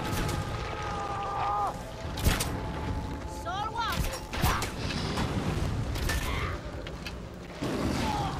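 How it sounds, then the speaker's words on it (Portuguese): Combat gunfire in the game Far Cry Primal: several sharp, loud impact cracks at irregular intervals over a busy bed of creaks, whooshes and game effects, with no one talking. "Tô levando tiro aqui."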